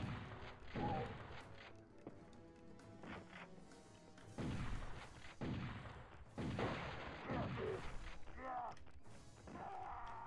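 Grenade blasts and gunfire from the video game Turok: Evolution, a string of loud, broadband booms and cracks arriving in bursts over a busy battle din, with no talking.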